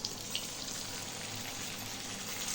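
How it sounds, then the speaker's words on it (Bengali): Soya chunks deep frying in hot oil give a continuous dense sizzle and crackle, close and steady throughout. "এইগুলোকে একটা করে একটা এবার পরপর তেলের ওপরে ছাড়তে হবে"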